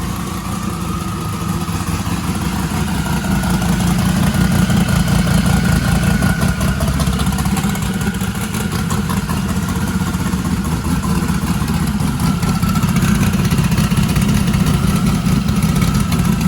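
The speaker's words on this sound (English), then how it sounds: "First fire up with the new turbos." An engine fitted with new 76mm Precision twin turbos runs loud and close just after first start-up, holding a steady rumbling idle with rapid pulsing and a faint clatter throughout.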